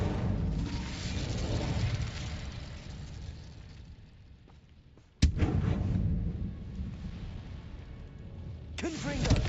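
The Incendio fire spell is cast in Hogwarts Legacy, with a roaring, rumbling burst that fades and then surges again with sharp onsets. Battle noise and spoken voices sit underneath.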